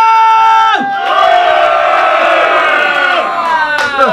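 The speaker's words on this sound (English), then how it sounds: "let me make a noise like a Viking now!" A live pub audience at a small bar gig in Darwen, Lancashire, roars a loud, sustained Viking-style battle cry together, with strong tonal shouting that swells and breaks off near the end.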